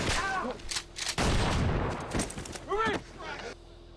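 Bursts of gunfire boom out in a zombie drama scene, loud and sharp with a heavy blast in the middle, while people talk and react over the shots.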